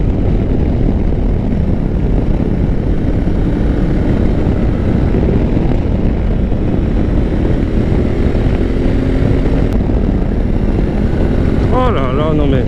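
Honda Africa Twin motorcycle ridden hard through a series of three bends, its engine a steady continuous drone mixed with heavy wind rush, with a rider's voice briefly over it near the end.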